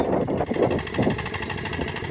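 A mini tractor engine chugs steadily close by while ploughing a field, a continuous rough mechanical drone with no break.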